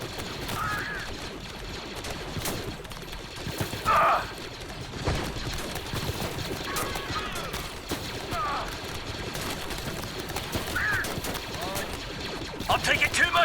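Scattered shots and volleys sound over a continuous din of battle in a Star Wars: Galaxy at War mod battle from the video game, mostly distant with a few sharper, closer bursts.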